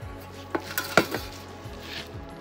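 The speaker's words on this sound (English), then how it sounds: "Let's have a carve of this up." Knife carving through cooked food with melted cheese during outdoor bush cooking in the Kimberley, a few soft close scrapes and clinks of blade against a pan or board over quiet background, no talking.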